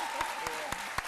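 A few sharp hand claps land at an even pace over a steady noisy wash with a thin held tone, picked up from a studio audience on a French midday TV talk show.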